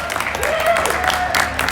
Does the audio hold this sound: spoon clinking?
no